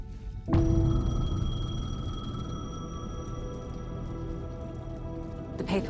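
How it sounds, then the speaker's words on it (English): A payphone rings in the video game Alan Wake 2, a sustained electronic ringing tone that starts suddenly and holds steady for several seconds over a low dark ambient rumble. "The payphone was ringing."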